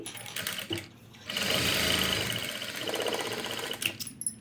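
Sewing machine stitching the front chest section of a katori blouse, a steady continuous whir running through most of the clip after a short start and pause, close and clear with no talking.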